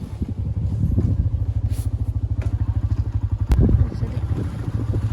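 A motorcycle climbs an uphill road near Sarangkot, Pokhara, its engine throbbing in fast, regular pulses close to the microphone, then a louder surge and clatter before it settles back to a steady run, with no talking.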